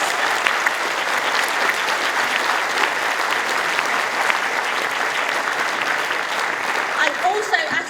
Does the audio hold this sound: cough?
no